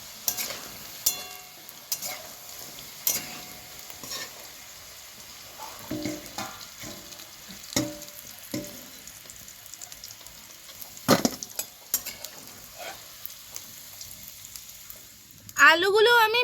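Potatoes fry in hot oil in a pan, with a steady low sizzle under sharp clicks and scrapes of a spatula stirring, and a louder burst of sizzling near the end.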